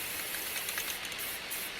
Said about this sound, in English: Get all those corrugation covered with spray paint.